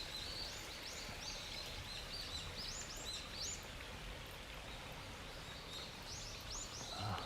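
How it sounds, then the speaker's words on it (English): Birds sing in early morning Tokyo, repeated bright rising calls in short bursts over a faint, steady outdoor background, no talking. "Birds are singing very nicely."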